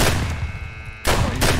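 Gunfire in the Escape From Tarkov video game: a loud burst of shots at the start, a brief lull, then another sustained volley, close and dominant.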